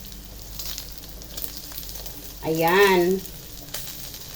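Pork belly liempo frying in a pan gives a steady close sizzle throughout, briefly covered by a short spoken word midway.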